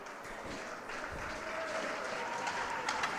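Steady applause from a crowd at a hockey game, a dense even wash of clapping that holds at a constant level throughout the short stretch.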